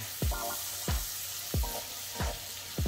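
Onions and peppers fry in bacon grease in a pot, giving a steady sizzle broken by four evenly spaced scraping stirs. The sound is close and moderately loud, with no voices.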